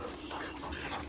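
Hunting dogs tracking pumas whimper and pant softly, a faint, continuous whining over breathy outdoor noise.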